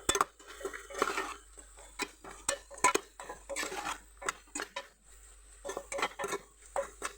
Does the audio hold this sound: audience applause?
no